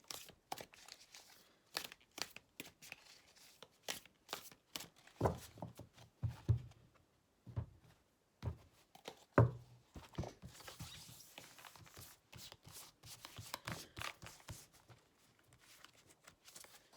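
Tarot cards shuffled by hand in a string of brisk, papery riffles and flutters, close and fairly quiet, with brief pauses between bursts and no talking.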